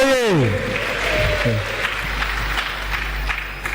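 Crowd clapping at a presidential town hall in Makeni, a sustained mass of applause with voices shouting and speaking over it, loud and fairly close.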